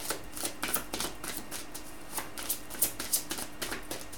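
Tarot cards being shuffled by hand, with a rapid series of crisp riffling and flicking bursts close up, with no talk.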